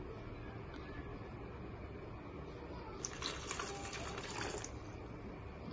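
Faint splashing of water poured into a concrete mix of aggregate, a brief trickle that rises partway through against a quiet background, with no talking.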